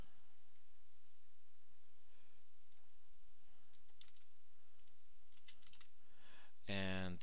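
Quick run of keystrokes on a computer keyboard as numbers are entered for a physics forces lab, faint and close, with a louder burst of clicks near the end.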